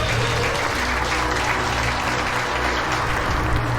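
Crowd applause from the video game Deponia: a dense, steady wash of clapping from many hands, loud and continuous throughout without a break.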